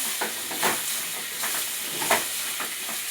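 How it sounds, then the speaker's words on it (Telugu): A spoon is stirring tomatoes, coriander and mint into mutton biryani masala frying in a pan, giving a steady hiss and sizzle broken by a few soft scraping strokes, close and alone without talk. "ఇప్పుడు ఇందులోకి టమాటాలు కొత్తిమీర పుదీనా వేసుకోవాలి ఇప్పుడు ఇవంతా కలుపుకుందాం మంచిగా"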